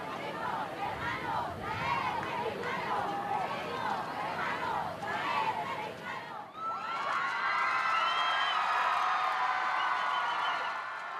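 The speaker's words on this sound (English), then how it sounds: "The crowd cheered him on by saying, "Benedict, our brother, you're already Mexican," A large crowd in Mexico welcomes Pope Benedict's arrival with rhythmic chanting and shouting, then erupts into high excited cheers and whistles, loud and continuous.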